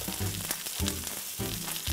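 Seasoned chicken hits a hot pan and fries with a loud, close, steady sizzle that swells in a few bursts over two seconds, with no talking.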